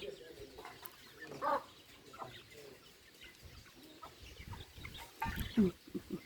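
Chickens cluck in short bursts outdoors, with a louder squawk near the end over a soft background murmur.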